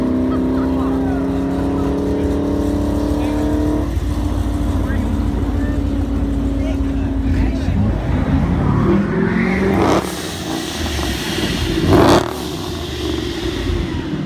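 A ProCharger-supercharged SRT8 Jeep engine rumbles and revs loudly, with rising supercharger whine and sharp throttle blips toward the end.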